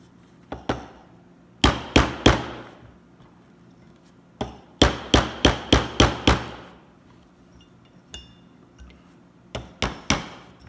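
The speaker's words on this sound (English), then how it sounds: "Got my hammer." A hammer strikes a metal punch to drive out a roll pin, sharp ringing blows landing in quick bursts of two to five with pauses between, close and loud against a quiet background.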